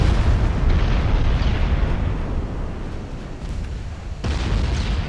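A heavy, rumbling torpedo explosion striking a ship in the naval game Ultimate Admiral Dreadnoughts, a sustained loud roar that dips briefly and then surges again.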